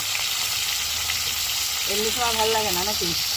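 Afghani chicken pieces dropped into a hot frying pan raise a steady, loud sizzle that crackles continuously, with a brief voice humming or speaking near the end.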